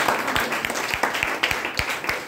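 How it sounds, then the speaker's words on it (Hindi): Audience applause in a hall during a motivational talk, a dense steady patter of many hands with a few sharper claps standing out, moderately loud and continuous for a couple of seconds. "तो अपने लिए तालियां बजा सकते हैं।"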